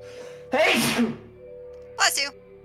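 A scarecrow character in the video game We Were Here sneezes twice, a close, sharp burst followed by a shorter second sneeze about a second later, over quiet background tones.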